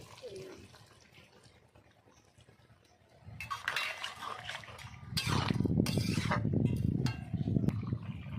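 Water poured into a pan of turmeric for a fish curry, a faint start that swells into a loud, steady splashing and bubbling rush over the last few seconds.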